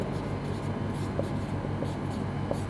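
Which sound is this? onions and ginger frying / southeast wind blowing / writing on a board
writing on a board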